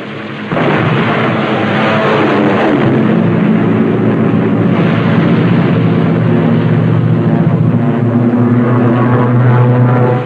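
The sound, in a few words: fighter airplane engine in flight, WWII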